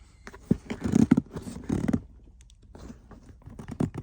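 Zippers on a Kawasaki Ultra 310 jet ski stern bag with neoprene lining are pulled open and shut in several quick, close rasping strokes, with short pauses between them and no talking.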